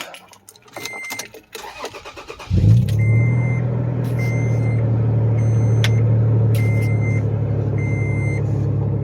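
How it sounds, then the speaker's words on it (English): A Toyota FJ Cruiser with 184,000 miles cranks for a couple of seconds and catches, then settles into a steady, loud idle close by, with faint intermittent beeps above the engine and no talk. "in the FJ, let's start her up"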